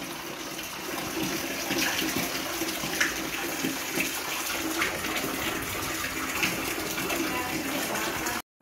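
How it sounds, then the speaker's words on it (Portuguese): Heavy rain pours steadily in Belém do Piauí, a dense, loud continuous hiss of falling water with faint drips and splashes throughout, ending abruptly. "Tá caindo água, galera,"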